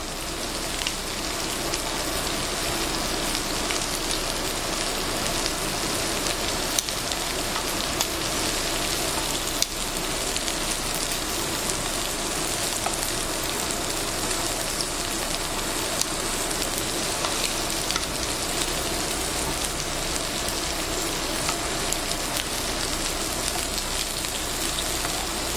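Shrimp sizzle and fry in a pan with a steady, dense crackling hiss, close and continuous, with a few scattered pops and no talking.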